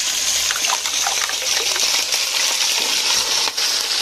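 Beaten eggs with fresh scallops stir-fry in hot oil in a wok, a loud continuous sizzle with gushing, bubbling texture and scraping pushes of the spatula, no voices.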